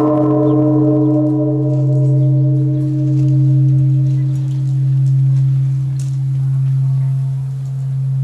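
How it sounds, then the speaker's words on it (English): A deep Japanese temple bell in Nagano resonates in one long, sustained tone with layered overtones, slowly pulsing as it fades, with faint background sounds. "don't lose the chance to hear the Bonshu bell ring"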